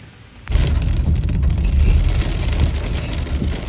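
Heavy rain pours during a long walk to a waterfall in a valley. It arrives as a sudden loud, dense roar after half a second and keeps up without a break.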